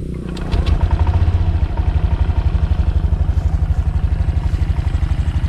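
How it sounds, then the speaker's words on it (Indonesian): A 2022 Honda Beat automatic scooter starts with a brief starter whir, then its engine settles into a close, loud, rapid and even idle pulse that continues to the end. "Nah sekarang coba kita dengerin suara mesin dan starternya."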